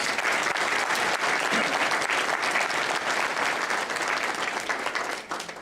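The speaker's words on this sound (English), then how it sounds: "I think we should all give them a round of applause." Audience applause at a high school hall of fame awards ceremony: a continuous, even roar of many hands clapping in a hall, thinning out slightly at the very end.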